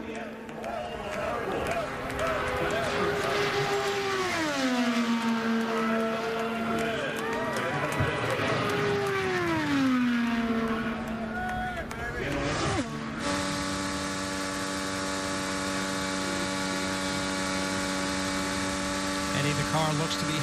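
An IndyCar race car on an Indianapolis 500 qualifying lap in 2016, its high-revving engine whining loudly with rising and falling pitch as it sweeps through corners, under continuous commentary.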